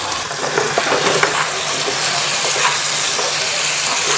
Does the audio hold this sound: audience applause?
no